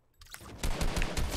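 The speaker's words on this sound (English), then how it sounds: "somebody's trying to shoot at me now" Video game gunfire crackles in a quick run of rapid shots, fairly loud and dense for about a second after a brief quiet start.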